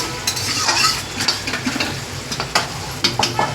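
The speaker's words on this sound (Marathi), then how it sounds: "त्याच्यामध्ये 1 चम्मच मीठ टाकायचे आणि हे असं परतून घ्यायचं" Fried onion, tomato and chicken biryani ingredients stirred in a pan with salt, a steady close sizzle with intermittent scraping and clinks of a metal spoon against the pot.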